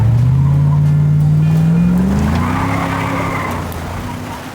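A Ford Mustang fastback, an old car bought for a rebuild, revs hard under acceleration, its loud close engine note climbing in pitch and then levelling off as it eases slightly away, with no talking.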